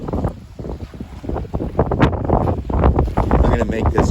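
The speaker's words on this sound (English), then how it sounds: "It is rainy, it is windy, it is miserable." Gusty wind at a rainy seashore buffets the microphone in a steady low rumble with rising and falling surges, loud and close throughout without pause.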